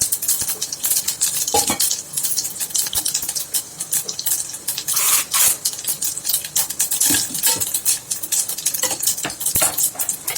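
Dried chilli, mustard seeds, urad dal and cumin tempering in a hot pan, a steady crackle and spatter of popping seeds with scattered clinks of utensils, close and continuous without talk.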